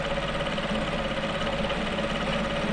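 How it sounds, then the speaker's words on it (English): Sewing machine top stitching a fabric flap on a senator top, a steady close mechanical hum and rapid needle chatter running without pause. "So top stitch all this area,"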